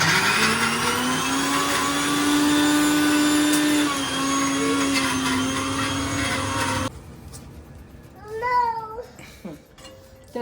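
A kitchen mixer grinder whirs loudly as it grinds three dry-roasted ingredients for dry-fruit laddoos, a steady high motor whine that cuts off abruptly after about seven seconds, followed by a few wavering cat-like cries.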